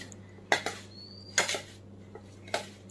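A spoon knocks against a pot while sugar is mixed into karanji filling, producing three or four sharp metallic clinks spaced apart against a quiet, faintly humming background.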